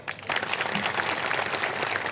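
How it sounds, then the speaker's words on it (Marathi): A crowd claps steadily and densely at an outdoor election rally for a municipal council poll in Pandharkawada, the applause sustained and even throughout. "इनके लिए टाळी बजाओ"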